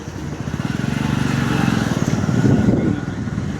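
A motorcycle engine putters close by with a rapid, even pulse, swelling slightly louder toward the end.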